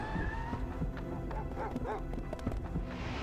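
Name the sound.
dog barking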